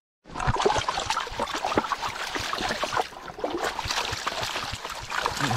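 A shallow stream trickling and babbling steadily over stones, close by, with a continuous bubbly splashing texture and no voices.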